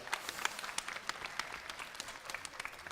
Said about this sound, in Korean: 우리 프로그 다시 한번 박수 부탁드립니다